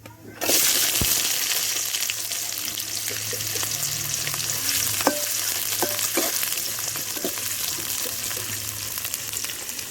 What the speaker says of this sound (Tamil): இப்போ நறுக்கி வச்சிருக்க பெரிய வெங்காயத்தை ஆட் பண்ணிக்கலாம்